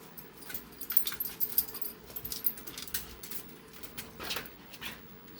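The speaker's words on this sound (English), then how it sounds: "I got whiny puppies over here" Several puppies whine and whimper in short, uneven bursts at close range in the early morning, with faint jangling and rustling underneath and no talking.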